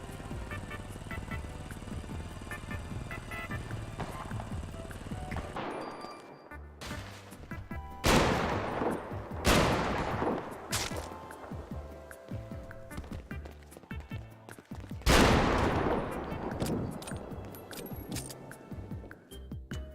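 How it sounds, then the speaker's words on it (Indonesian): A few sharp, loud gunshots ring out at intervals in GTA V roleplay, standing clear above steady game ambience and engine hum. "Kok ada yang nembak?"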